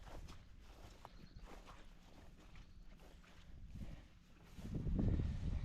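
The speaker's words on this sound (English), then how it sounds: "squishing and you can hear the water slosh as I walk" Footsteps squishing and sloshing through waterlogged grass on an overgrown property, a slow series of soft wet steps outdoors with light wind noise, ending in a louder splashing trudge.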